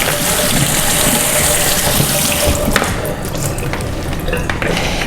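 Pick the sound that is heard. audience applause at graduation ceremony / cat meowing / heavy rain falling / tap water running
tap water running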